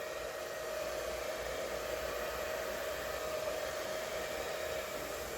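A hair dryer blows steadily across wet paint on an acrylic pour, a constant close whooshing hiss with a faint whine running through it and no talking.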